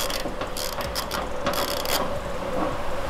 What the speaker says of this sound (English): this is a Harbor Freight ratchet. And I know people talk shit about Harbor Freight, but listen to this compared to the Craftsman